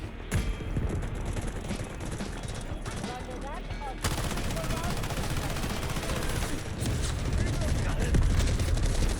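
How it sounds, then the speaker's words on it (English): Artillery barrage in the Delta Force video game: dense, continuous rumbling blasts and rapid gunfire, loud and sustained, growing heavier toward the end, with a voice speaking over the din. "Requesting artillery barrage on coordinates."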